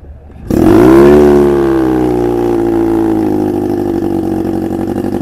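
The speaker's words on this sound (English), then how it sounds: "it's a two-cylinder, two-stroke engine, and the power head is a Johnson outboard motor head at 5 horsepower." A two-cylinder, two-stroke 5-horsepower engine built with a Johnson outboard motor power head starts abruptly and then runs steadily close by, a loud buzzing drone that settles into an even idle with no talk.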